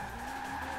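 Tires skidding under late, hard braking on a race car in Forza Horizon 4, a steady sustained squeal with engine drone running through the whole short moment, loud and close with no talk.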